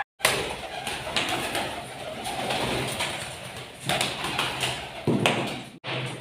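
Caged pigeons cooing, with fluttering, tapping and shuffling as they move about inside, a close, continuous busy mix of soft calls and rustling.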